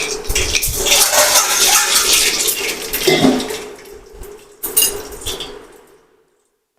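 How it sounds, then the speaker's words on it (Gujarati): Bay leaf, mustard seeds, cumin and peppercorns hit hot oil for tempering, giving a loud, steady sizzling hiss close up that fades after a few seconds, followed by a short clattering burst before it goes quiet. "તેલ તપી ગયું છે તો આપણે તમાલપત્ર રાઈ જીરું ને મરી નાખી દઈશું વઘારમાં"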